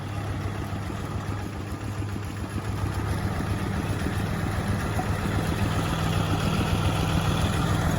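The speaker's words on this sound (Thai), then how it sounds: "อันนี้ก็ใช้รถไถใหญ่ไล่น้ำ ให้รถไถเล็กคาดนะครับ" Large and small tractors working a flooded rice paddy in Ban Khoi, a continuous, steady, fairly loud engine drone with a low rumble that grows slightly louder partway through, with no talk.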